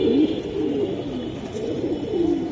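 Pigeons in a loft, Giribaz tumbler stock in breeding mode, give soft repeated throaty coos that rise and fall over a steady low murmur, close by and continuous, with no voices.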